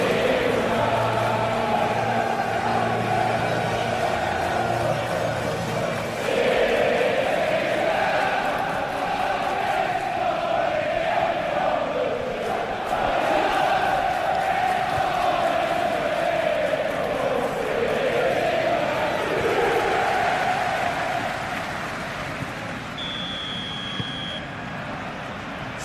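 A stadium crowd in a PES 21 football match between Nottingham and Manchester United roars as a continuous broad, swelling wash, with commentators talking over it.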